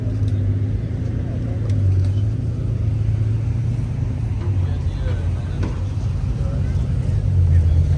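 Hypercars, including two Bugatti Chirons and a GT3 RS, drive along the streets of Monterey with a continuous low engine rumble and traffic noise at moderate distance, rising slightly toward the end.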